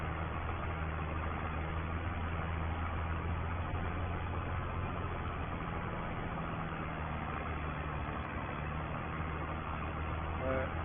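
A tractor engine idles steadily throughout, a continuous low rumble that stays even and close, with no pauses.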